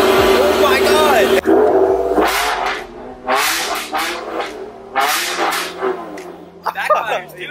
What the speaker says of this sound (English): Backfires too.